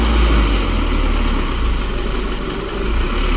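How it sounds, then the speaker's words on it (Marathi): A truck loaded with bricks arrives at a home construction site, a loud, steady engine rumble and road noise that fills the clip with no talking. "विट्टांची गाडी आली आली आली."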